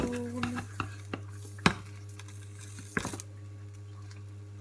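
A pancake fries in a frying pan while a utensil scrapes underneath and turns it, giving several sharp metallic clanks and scrapes over a low steady hum and gentle sizzle, close by and with no talk.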